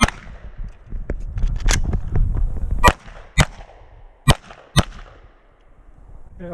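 Gunshots at a USPSA practical shooting match stage, loud sharp cracks, one burst of rapid shots followed by several single reports spaced about half a second to a second apart, with echoing tails.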